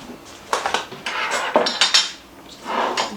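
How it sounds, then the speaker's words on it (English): A portable stovetop is set down on a kitchen counter amid the clatter of pots and utensils, giving a series of close, sharp knocks and rattles with short pauses between. "now I'm going to bring over my stovetop"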